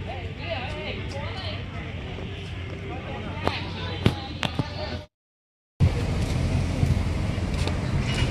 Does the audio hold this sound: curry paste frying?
no